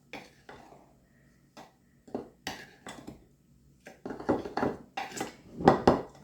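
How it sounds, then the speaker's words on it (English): A spoon stirs dry baking ingredients, flour with baking powder and salt, in a bowl for lemon blueberry bread, with clinks and scrapes against the bowl that start sparse and grow busier and louder toward the end. "So we're going to mix that all together here."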